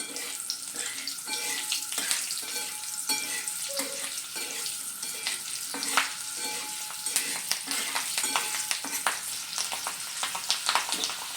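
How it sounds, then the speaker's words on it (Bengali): Cumin and slit green chillies sizzle and crackle in hot oil in a pan, a loud, continuous close fry with scattered pops and stirring clatter throughout. "জিরেটা ভাজা হয়ে গেছে। এবার আমি এর মধ্যে দিয়ে দিচ্ছি 3টে চেরা কাঁচা লঙ্কা"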